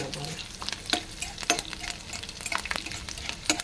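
Small pieces of peeled garlic fry in hot oil, giving a steady close sizzle broken by sharp scraping stirs of a utensil at intervals.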